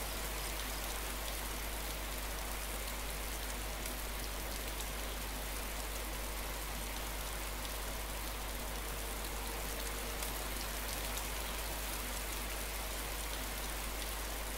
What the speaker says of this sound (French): comme j'aime pas quand il pleut